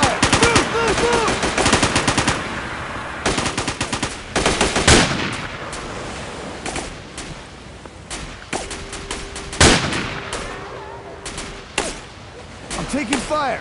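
Sustained machine gun fire in the Marine Sharpshooter 3 video game, with loud rapid bursts and fusillades broken by short pauses, dense and close throughout, while voices shout over the gunfire.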